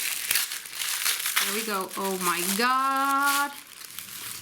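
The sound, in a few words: opening a nicely wrapped, taped package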